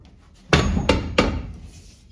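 Three sharp metallic taps of a hammer on a long punch against a 2007-2021 Toyota Tundra 4x4 transfer case, spaced about a third of a second apart, close and loud with short ringing decay.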